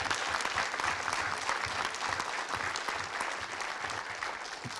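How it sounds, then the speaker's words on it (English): An audience at a celebration of the 1989 Sidney High School football team gives its coach a round of applause, a steady, even clapping from a sizeable crowd that holds for about five seconds. "let's just give Dave a nice round of applause."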